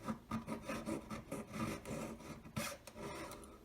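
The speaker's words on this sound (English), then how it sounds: "I'm squeezing it as I'm cutting it, so it's gripping the saw blade" A hand saw cuts through a collet with a rapid run of rasping strokes, close and quiet, rubbing and grating in an uneven back-and-forth rhythm with a sharper scrape partway through.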